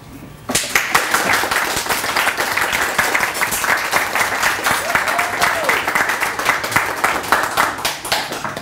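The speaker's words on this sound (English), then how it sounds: "I'd like you to just join in with a round of applause." A room of people at a speaking club meeting bursts into a round of applause that starts abruptly, then settles into crisp, fairly synchronized clapping that grows steadily rhythmic and pulsing as the crowd falls into a shared beat.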